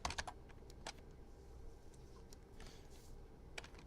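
Rapid keystrokes on a computer keyboard while entering CSS rules for a nav selector, a burst of close clicks at the start then scattered taps, quiet and alone with no talk.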